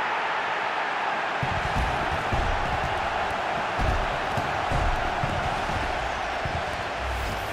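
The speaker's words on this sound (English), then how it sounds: "Now they get to join in the celebrations, go into the crowd and give them the cup." A stadium crowd in the FIFA 21 video game roars steadily as players celebrate an FA Cup final win, with a dense, continuous wash of cheering and some faint rumbling thuds beneath.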